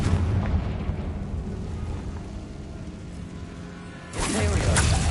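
Confringo blast in Hogwarts Legacy: a heavy rumbling explosion that slowly fades, followed by a second sharp, loud burst near the end.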